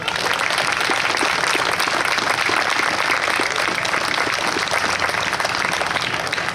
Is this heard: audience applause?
yes